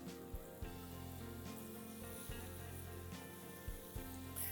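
Mushrooms frying in a pan, seasoned with salt and crushed black pepper, give a steady, close sizzle with a few soft clatters and bumps of stirring and no talking.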